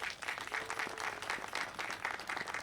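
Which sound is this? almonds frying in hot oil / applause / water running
applause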